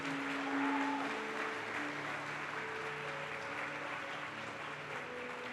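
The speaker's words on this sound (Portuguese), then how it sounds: "Dá um aplauso a Jesus e diz um amém aí" Steady applause from a church congregation fills the whole stretch, a continuous even patter of clapping with a faint musical tone underneath.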